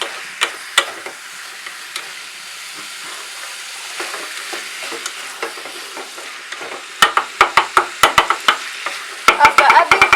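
Capsicum fries in a pan over medium heat under a constant soft sizzle, and a spoon stirs in short strokes that become a quick, rhythmic run of loud scrapes and taps near the end.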